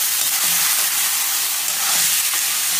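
Two kinds of millet and half a cup of rice roasting in a hot pan make a loud, dense, steady sizzling hiss, close up and continuous throughout, with no voices.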